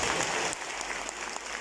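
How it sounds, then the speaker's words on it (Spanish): Audience applause at a university event, steady soft clapping from a group heard alone at a moderate distance, fading slightly after the first half second. "aplauso a todos"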